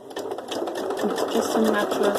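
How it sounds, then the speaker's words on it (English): A sewing machine with a speed dial running fairly fast as it stitches a test strip of scrap fabric, a close steady rapid whirring, with a person talking over it. "I have a speed dial on my sewing machine. I have it going fairly quickly."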